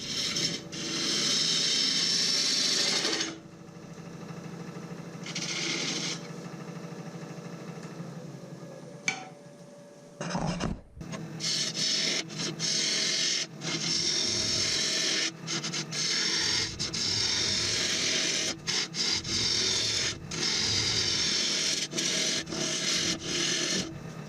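Wood lathe turning a hollow form as the gouge cuts down its taper, a steady scraping, rasping hiss with a brief pause near the middle before the continuous cutting resumes, close and fairly loud.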